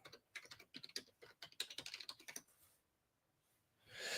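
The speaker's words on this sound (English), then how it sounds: "I just need to type something" Fast, uneven typing on a computer keyboard, close and quiet, with a clatter of key clicks, a brief pause and then a soft rising shuffle at the end.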